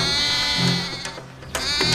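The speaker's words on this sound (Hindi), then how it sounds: "लगता है कोई बकरी फंस गई है" A bleating animal cries out in a few drawn-out, wavering calls, loud and close, with a brief pause between them.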